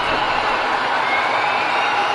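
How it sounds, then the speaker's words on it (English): A capacity crowd at a wrestling event roars and cheers, a dense, steady wall of loud crowd noise with no distinct breaks. "And this capacity crowd is on their feet for this one."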